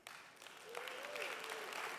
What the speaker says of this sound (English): So a big round of applause for WeWork.